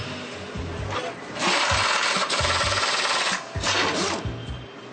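Air impact gun tightening bolts on a Mack truck bumper, loud rattling bursts of hammering that start and stop over steady workshop noise, heard up close.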